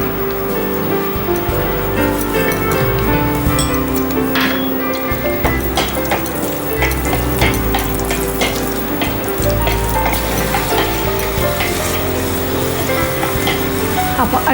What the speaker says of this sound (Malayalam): അണ്ടിപ്പരിപ്പും കിസ്മിസും പാകത്തിന് മൂത്ത് കഴിഞ്ഞു.